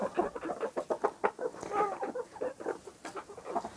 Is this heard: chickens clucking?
yes